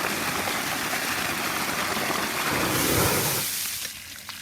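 Water rushes steadily through a fire hydrant assist valve line feeding a fire scene, a dense, loud gushing hiss that holds for several seconds before easing off near the end.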